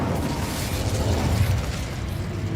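A fire spell cast in Hogwarts Legacy, a dense, roaring burst of flame and rumbling blast that stays loud and steady throughout, with no talking.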